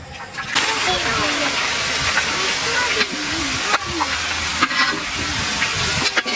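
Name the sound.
jackfruit chips frying in hot oil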